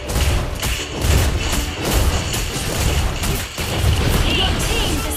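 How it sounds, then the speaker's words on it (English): A turret being destroyed in the Mobile Legends game: dense, booming thuds and crashing impacts pile up in a loud, continuous battle barrage, with brief game voice callouts mixed in. "Your team destroyed the turret!"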